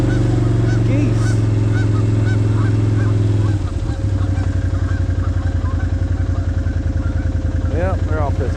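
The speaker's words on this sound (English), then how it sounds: "Geese." Geese honking outdoors after a storm, heard as several loud, close calls over a constant low engine-like drone. A burst of honks comes near the start and another stronger cluster near the end.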